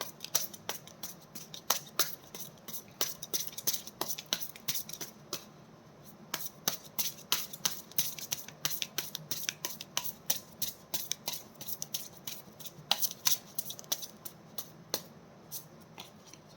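Tarot cards are shuffled by hand in quick, crisp riffles and flicks, a dense run of sharp papery snaps and rustles repeating close to the listener without pause, with no voice over them.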